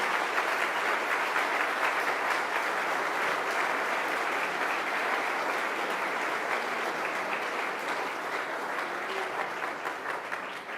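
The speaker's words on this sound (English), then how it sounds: "Let's give another round of applause." A sustained round of applause for a county executive at a state budget event with the New York governor, a dense crowd clapping steadily and easing slightly toward the end.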